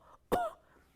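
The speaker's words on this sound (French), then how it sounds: "vous êtes censé tousser dans votre manche" A single short, sharp cough, close and muffled, standing alone in a quiet room.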